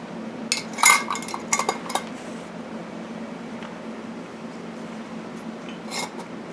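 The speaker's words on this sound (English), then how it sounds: "when you put your lids and rings on" Metal lids and screw rings being set onto glass jars of homemade ghee, a few close clinks and clatters in the first two seconds, then a quiet room hum with one last faint clink.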